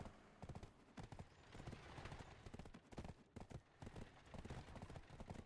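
Horse hooves clip-clopping in the online role-playing game Black Desert, a rapid, rhythmic gallop of clustered thuds that runs throughout, moderately loud against a busy game soundscape.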